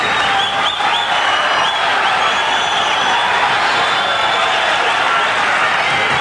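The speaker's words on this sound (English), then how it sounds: "The hand clapping and the whistling." A dense, steady roar of clapping and cheering fills a London arena after a 1985 lightweight boxing bout between Edwin Rosario and Frankie Randell, with thin whistles cutting through near the start.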